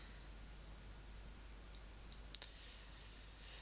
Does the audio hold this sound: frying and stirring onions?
no